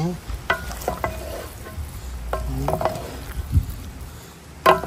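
A spoon scrapes and stirs pork curry in a pan while it sizzles softly, with intermittent clinks against the pan and a steady low frying hiss throughout.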